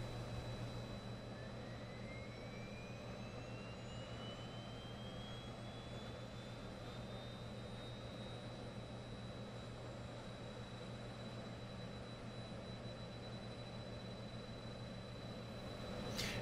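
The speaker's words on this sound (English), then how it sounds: "the sounds of this plane are really, really, really good" Twin aircraft engines spool up in the X-Plane 11 flight simulator, a rising turbine whine climbing steadily over a constant loud drone, with no talking.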